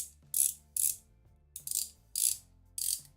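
Small finger-turned screwdriver holding an interchangeable bit, used on vintage Singer sewing machines, gives five or six short, crisp ratcheting clicks spaced roughly half a second apart, close and fairly quiet against near silence.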